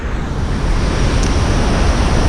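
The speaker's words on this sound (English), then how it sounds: "The mighty Iguacu Falls," The mighty Iguacu Falls, a huge waterfall, gives a loud, continuous roar of falling water that stays dense and unbroken from start to finish.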